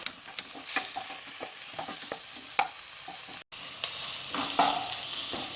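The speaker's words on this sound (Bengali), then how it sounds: "এবার দিচ্ছি গ্রেট করা ক্যাপসিকাম। এগুলো দিয়ে আমি আরো 5 মিনিট পেঁয়াজের সঙ্গে ভেজে নেব।" Grated capsicum and carrot fry with onions in a pan, a continuous sizzle broken by repeated scraping stirs of a spatula, close and clear, with one brief dropout midway and no voices.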